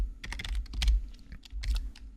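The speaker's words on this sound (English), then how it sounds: "We're going to type wiggle" Rapid keystrokes on a computer keyboard while entering a wiggle expression, a close, steady patter of clicks in uneven bursts with no talking.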